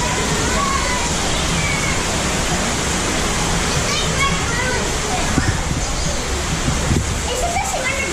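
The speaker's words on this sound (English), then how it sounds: "Is it this underground waterfall?" Underground waterfall inside Eden Cave along the Buffalo National River, a steady, dense roar of falling water filling the whole stretch, with faint voices now and then beneath the rushing.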